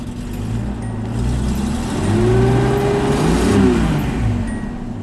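A 1979 Datsun 280ZX engine idles after a cold start with a faulty cold start valve and a disconnected thermo-time switch, a loud, close, steady hum that rises a little in the middle.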